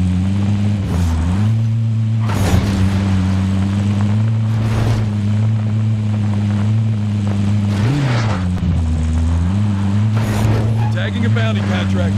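A vehicle driven in Call of Duty Warzone hums with a steady engine drone that rises and dips with throttle, loud and continuous, with occasional thumps and a voice talking over it.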